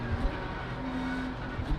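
BMW M4 GT3 race car at Road Atlanta in iRacing, a steady engine drone with a faint low tone holding through the short stretch, no distinct pass-by swell, moderately quiet.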